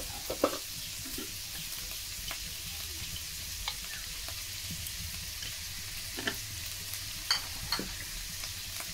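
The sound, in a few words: sautéing potatoes with onion, garlic, ginger and salt in a pan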